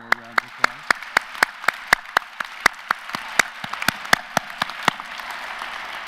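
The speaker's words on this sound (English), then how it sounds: "So we'll give the faculty kind of one more round of applause." Commencement audience applauding the faculty at a university graduation ceremony in an arts center hall, a steady wash of many hands with sharp individual claps standing out near the front, sustained throughout.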